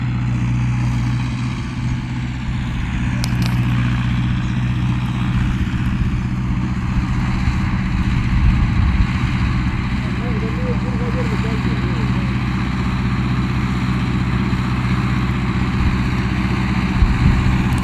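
A Mahindra Arjun Novo 655 4x4 tractor running a 9-foot super seeder in a very wet field gives a loud, steady low diesel drone that continues without a break, with someone talking over it.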